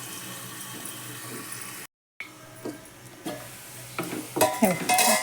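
Potato cooking in oil for sabudana khichdi, a soft continuous sizzle and steam hiss with occasional stirring scrapes, briefly cut off, then growing louder and crackling toward the end.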